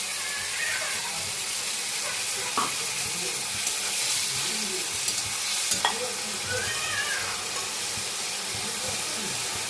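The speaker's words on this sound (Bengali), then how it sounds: "এবার রসুন পেস্টটা একটু দিয়ে দিলাম।" Garlic paste sizzles in a pan for a desi tangra fish chorchori, a close, steady frying hiss with occasional spoon scrapes and clinks of stirring.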